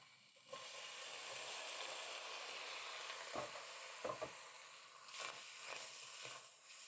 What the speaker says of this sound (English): they're starting to crackle and boil. Not crackle and boil, crackle and fry.